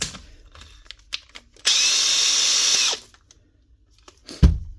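A Makita power drill runs steadily for about a second and a half, loud and close, preceded and followed by faint handling clicks and a knock at the end.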